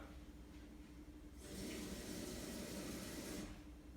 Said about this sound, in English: So I just added a little bit of water